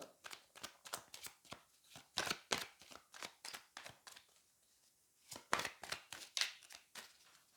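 Tarot cards shuffled by hand, a quick run of crisp riffling flutters and slaps in irregular bursts, close and fairly quiet, with a brief pause midway.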